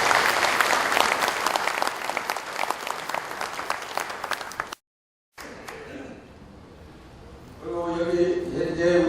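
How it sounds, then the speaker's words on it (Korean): Audience applause welcoming guests at a patriotic forum held in a hotel hall: loud, dense clapping from a crowd for several seconds, then an abrupt cut, followed by quieter room sound and a voice over a microphone near the end. "박수로 환영해 주시기 바랍니다."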